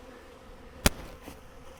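Honey bees buzz around a Flow Hive during a live swarm catch, a faint steady hum with one sharp close knock or thud partway through.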